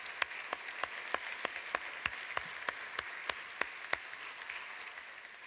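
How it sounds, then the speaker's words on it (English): An audience applauds its organization's president, Jennifer, at a lecture event: a steady wash of clapping from many hands, with sharper individual claps standing out near the front, continuing evenly throughout with no talk over it. "So I'd like you, together with me,"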